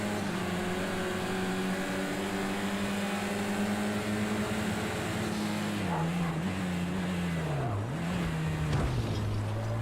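A Mercedes AMG A45 touring car races at Knockhill in Project CARS 2, giving a steady, loud engine drone that wavers and dips in pitch near the end as it shifts or brakes.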